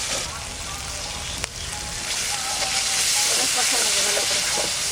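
Water poured into a hot pan of spices with salt and turmeric gives a loud, steady steamy hiss and sizzle that swells slightly and holds for several seconds, with faint clinks.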